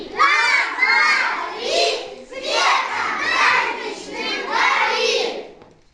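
Children at a New Year holiday party shout together in loud unison bursts, several rising and falling waves of voices across the span with brief dips between them, close and dominant.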